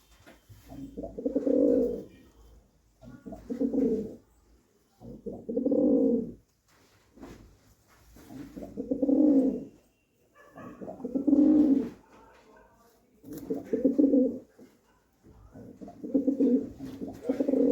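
Pigeons cooing nearby in repeated soft, throaty bursts, about eight calls separated by short pauses, with no talking.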